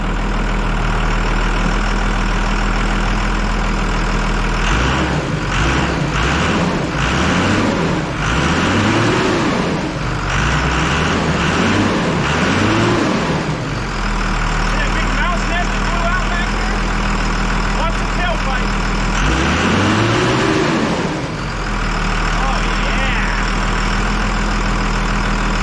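A Cummins diesel service van engine idles nearby with a steady low rumble, broken by several bursts of revving and speech-like voices over the running motor.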